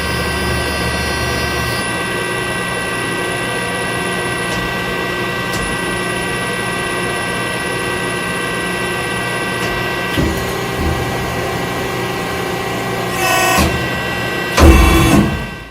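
Industrial press brake running through a foot-pedal cycle, a steady hydraulic pump hum and motor whine throughout, with the back gauge shifting and a few brief mechanical clunks and a louder burst near the end.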